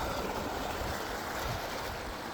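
A small stream of water runs between natural rock pools on a day hike at Sitting Bull Falls, New Mexico. It makes a steady, even rushing murmur close by, with no voices.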